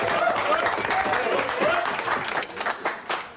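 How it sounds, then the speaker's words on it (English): A studio audience at an East End of London pub claps for Ron the Spoons, a broad burst of applause mixed with crowd murmur and whistle-like tones, fading toward the end. "Give him a nice round of applause for Ron the Spoons."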